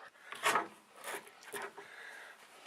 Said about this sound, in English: We just take a screwdriver and you just get in behind it